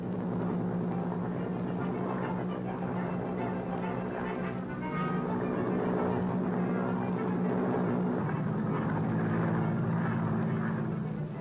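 Boeing B-17 Flying Fortress propeller aircraft in flight at high altitude, a steady, loud, continuous engine and propeller drone with layered tonal hum throughout, no voices.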